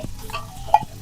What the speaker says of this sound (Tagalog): Lagay na natin ang ating Argentina giniling.